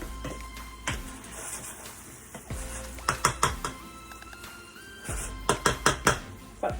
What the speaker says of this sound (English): we're just waiting for the shrimp to finish cooking 3/4 of the way through